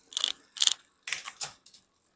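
Gears shift on the derailleur of an Italian DeRosa bicycle during a frame-up build, producing a few close, crisp mechanical clicks and ticks in short separate bursts, with no talk over them.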